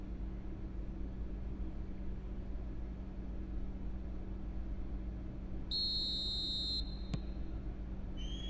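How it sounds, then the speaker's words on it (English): A referee's whistle blows once at a World Cup qualifying football match between Liechtenstein and Armenia at Rheinpark Stadion, a short shrill tone cutting above steady crowd and broadcast ambience. "There's the whistle."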